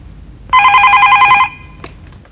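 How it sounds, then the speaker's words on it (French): A telephone bell rings once in a short, loud electronic trill lasting about a second, clear and alone against a quiet background. "À qui téléphone Irène?"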